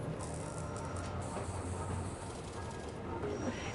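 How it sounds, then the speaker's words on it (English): A train rumbles past on nearby railroad tracks, a steady low roar and hiss heard at a distance. "I live right by a set of railroad tracks, and I think there's a train coming."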